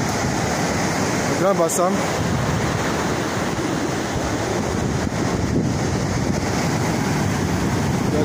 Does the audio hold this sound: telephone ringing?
no